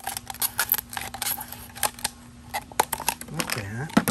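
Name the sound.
cutting the ends off a plastic bottle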